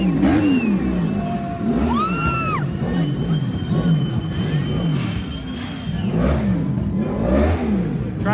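Motorcycle engines rev loudly at an anti-curfew street protest in Old Montreal, their whining and roaring pitch rising and falling over a rumbling crowd, with a sharp siren-like sweep cutting through near the middle.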